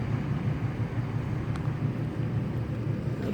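A truck passes outdoors, heard as a steady low rumble that stays level and moderately loud throughout, with no talk over it.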